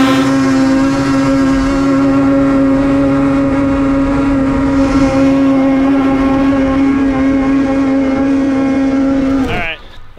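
A snowmobile races at full throttle around a backyard snow track, its engine a loud, steady high-pitched drone held close for nearly the whole stretch before cutting off abruptly.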